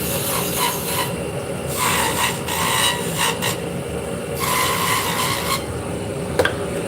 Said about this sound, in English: So we're going to put 2 beads on the bottom. I'm actually going to be using a beading tool.